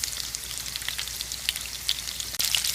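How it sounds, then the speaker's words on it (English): Salmon fillets sear in a hot pan, giving a steady, close sizzle with scattered crackles and pops and a brief louder burst near the end. "I'm going to sear it for a couple minutes on this side"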